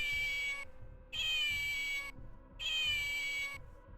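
A cat in Call of Duty Modern Warfare meows three times in an even, repeating pattern. Each cry is loud, bright and about a second long, with short silences between.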